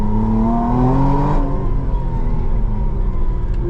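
A 2025 McLaren Artura Spider sports car driving hard, its engine note rising and falling steadily and loud up close over a constant road rumble and whir, with no talk.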